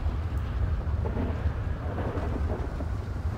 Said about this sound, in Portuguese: Não, tô ouvindo chuva.